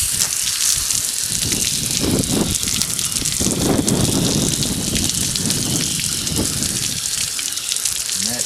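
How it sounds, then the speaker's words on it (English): A garden hose sprays water hard to rinse something off, a loud, close, continuous hissing gush that shifts in tone as the stream moves across the surface. "I'm gonna grab a hose, my hose, and I'm gonna blow this off."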